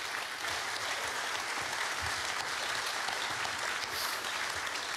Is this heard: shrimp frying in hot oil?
no